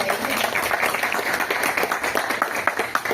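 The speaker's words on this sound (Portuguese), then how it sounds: "Eliseu e Alcilene, uma salva de palmas para eles" A seated audience at a company presentation event claps in a steady, fairly loud burst of mixed hand claps that lasts the whole few seconds.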